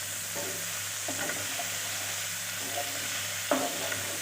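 Long slivers of ginger stirred into a frying pan while cooking chicken stew, a constant close sizzle broken by soft scraping stir strokes and one sharper clack near the end, no talking.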